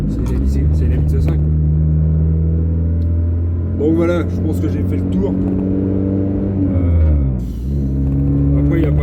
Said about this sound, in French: c'est une voiture qui est grande comme ça et qui fait plus de bruit qu'elle avance